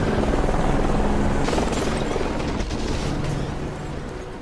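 A helicopter in an action scene roars steadily throughout, a dense broadband rotor and engine wash with some bursts layered on top, loud and close, with no talking.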